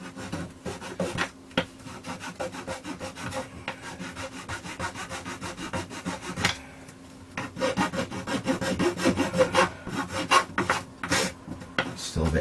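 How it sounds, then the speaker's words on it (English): A hand file rasps across cured epoxy on a plastic cover for a Kenwood Chef mixer, filing it back down to flat. The strokes repeat in a steady rhythm, close and fairly loud, with no talk. "we're just going to have to file the epoxy basically back down to flat."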